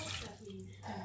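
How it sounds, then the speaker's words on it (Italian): Water runs from a tap into a pot of diced pumpkin with celery and its leaves, a steady close splash and trickle that goes on throughout without pause. "Adesso aggiungo acqua senza rovesciarlo"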